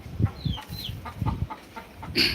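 Country hens on a farm clucking in a run of short, low bursts, with a few higher squawks and a louder cackle near the end, close by.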